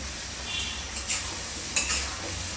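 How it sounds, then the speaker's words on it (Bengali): Potatoes and cauliflower stir-fried in spice paste in a pan, a steady close sizzle with scraping stirs and a couple of brighter clinks of the utensil, no talking. "এখন আমি এখানে আলু আর ফুলকপিটা ভালো করে কষিয়ে নেব"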